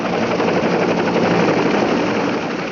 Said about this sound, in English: another enemy of the foot soldier has taken to the skies, the attack helicopter